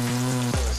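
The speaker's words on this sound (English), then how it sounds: "add a little more butter onto it and saute your onions" Onions sautéing in butter in a pan on a stove, a soft, steady sizzle and crackle at close range, with no talking over it.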